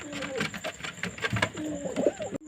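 Close pigeon cooing in soft, throaty bursts, with brief rustling and a sharp click near the end, no talking.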